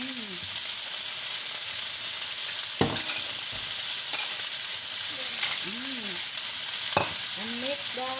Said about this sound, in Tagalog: At ilalagay na natin ang tahong